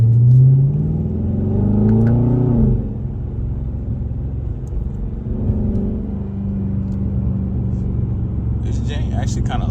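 A 2020 Dodge Charger R/T rumbles steadily from inside the cabin while driving, its low engine note swelling briefly early on, with someone talking over it.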